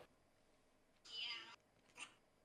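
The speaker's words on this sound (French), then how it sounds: "Elle a-tu dit miau?" A cat meows twice nearby but faintly, first a longer drawn-out call and then a short, quick one about a second later, against a quiet room background.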